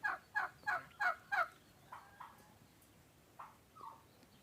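A young turkey, about five months old, gives a run of five quick, sharp chirping calls, then a few fainter, scattered calls. The sound is distant and quiet, with no voices.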